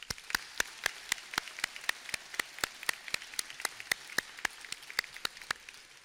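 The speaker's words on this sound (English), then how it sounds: "Can we give him another round of applause?" Applause at a 2017 commencement ceremony, sparse and distinct sharp claps in an uneven rhythm, fairly quiet and heard alone without talk.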